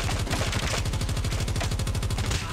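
Rapid automatic gunfire in Call of Duty Mobile rattles out as a fast, steady stream of close, loud shots. It runs almost without pause from start to finish, with a brief shift in texture near the beginning.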